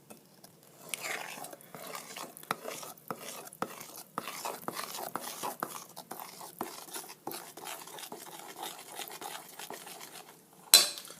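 Pepsi cake batter being stirred in a bowl, a quiet run of irregular utensil scrapes and clinks against the bowl, close by, ending in one sharper knock, with no speech.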